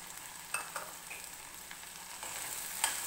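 Onion and tomato sauté in a pan for pirandai kuzhambu, a quiet, continuous sizzle dotted with a few light stirring taps.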